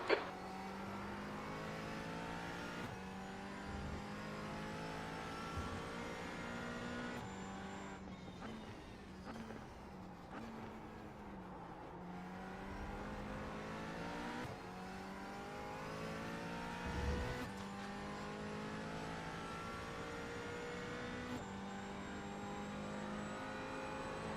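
McLaren 570S GT4 race car in the iRacing sim at Daytona, engine revving up and down through gear shifts for a long stretch, steady and fairly quiet with occasional bumps; no talking.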